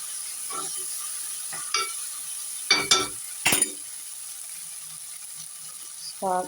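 A spoonful of ginger fries in a pan for a small-tomato curry, with a faint constant sizzle broken by a few sharp spoon clinks and scrapes against the pan.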